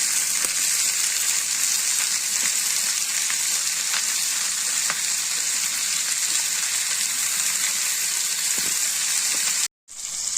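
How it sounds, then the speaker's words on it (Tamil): Onions, tomatoes, ginger and garlic sautéing in a pan for prawn pickle: a dense, steady sizzle fills the whole stretch with occasional stirring clicks, close and even, ending in a brief cut. "ஒரு ரெண்டு வெங்காயம் ரெண்டு தக்காளி ஒரு துண்டு இஞ்சி ஒரு பத்து பல்லு பூண்டு இதை நம்ம நல்லா வதக்கிக்குவோம்"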